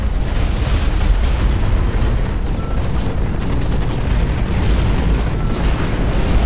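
Missile explosions in the mech combat video game Hawken, a loud continuous rumble of overlapping booms and blasts with a heavy low end, close and sustained throughout, no voices.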